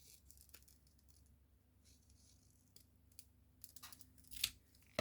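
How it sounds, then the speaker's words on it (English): Scissors snip a paper piece off a gift tag ornament, with faint, sparse cuts and paper rustling that build to a couple of sharper snips near the end. "we're going to have to cut this one off as well"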